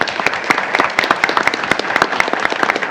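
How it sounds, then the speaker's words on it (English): Applause at a school board meeting as a graduating senior and her family are honoured, a crowd of hands clapping in a steady, dense patter with sharp individual claps standing out, close and fairly loud throughout. "Round of applause for her family"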